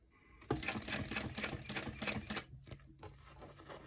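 A 1341 cylinder arm sewing machine stitching a bag seam runs in a close, steady rapid chatter, pauses briefly, then starts again.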